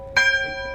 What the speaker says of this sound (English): And they let us ring the church bell, which we found extremely exciting.